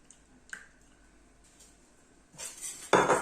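Sugar, warm milk and olive oil are mixed in a bowl, a few light clinks early on, then a spoon scrapes and clatters against the bowl near the end, close and quiet.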